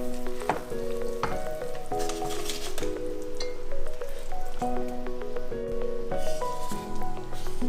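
Glutinous oil rice is stirred and scraped in a pan over heat, steady sizzling beneath repeated clinking strokes of a utensil, with a low tonal hum running throughout.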